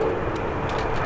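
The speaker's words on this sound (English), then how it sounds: "Plane's coming in." Low, steady roar of an airplane passing overhead, a broad rumbling wash with wind noise, no voices.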